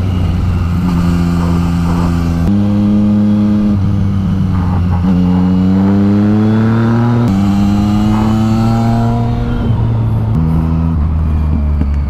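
BMW GS motorcycle racing on the road, a loud, close engine drone that rises and falls as it revs through gear changes, heard alone throughout.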